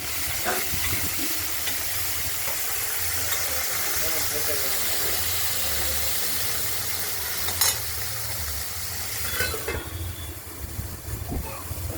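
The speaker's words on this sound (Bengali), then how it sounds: "ঢ্যাঁড়সটাকে একটু প্রথমে ভাজা ভাজা করে নেব।" Okra frying in a pan with salt, giving a steady hiss and sizzle with occasional stirring scrapes, close and moderately loud throughout.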